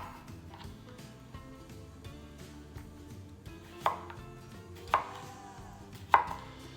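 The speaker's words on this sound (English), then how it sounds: "take our cucumbers and slice them into whatever size you like your pickles" A knife slices cucumbers for dill pickles on a cutting board, with soft cutting sounds followed by three sharp, distinct thunks near the end.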